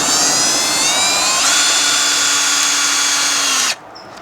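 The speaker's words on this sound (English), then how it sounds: "We're doing the last drill on the bottom panel." A loud power drill whines steadily at close range, its pitch shifting partway through as it drives into the bottom panel of a garden trellis, then cuts off abruptly near the end.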